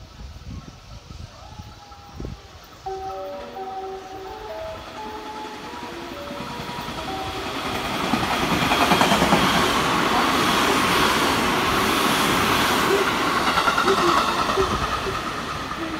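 A JR 207 series 1000-number unrefurbished train, a two-set deadhead run, passes non-stop through Omi-Hachiman station, its steady rushing roar and wheel clatter building and filling the platform, with station announcement chimes and a public-address voice early on.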